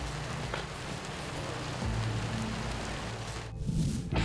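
Steady rain from a Florida thunderstorm pours over a construction site, a continuous wash of noise with low rumbling swells of thunder underneath, close and loud, no voices.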